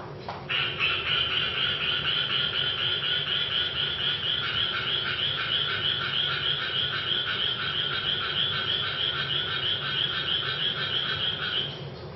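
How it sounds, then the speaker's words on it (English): Two frogs kept together in one group call back and forth in steady alternation, a continuous dense run of croaking notes lasting the whole stretch, close and loud over a faint background hiss. "2 frogs call alternately, and we call this anti-phase synchronization"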